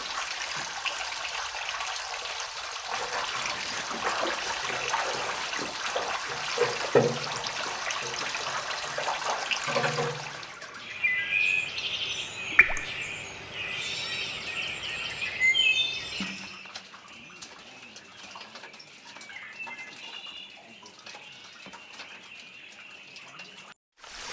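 Water flowing unpumped from the mouth of a surangam, a hand-dug tunnel: a rushing, splashing stream for the first ten seconds, then a quieter trickle with birds calling in the background.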